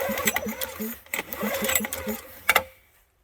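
A small trash-picked generator engine is cranked in a few short, sputtering bursts that catch briefly and then die away into quiet, heard close up.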